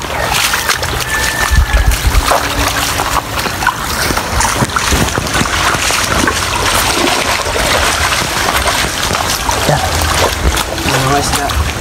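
Loud, rushing water in a rural Bicol river churns steadily throughout, with wind buffeting the microphone and occasional splashes up close.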